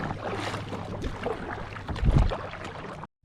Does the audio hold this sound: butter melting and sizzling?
no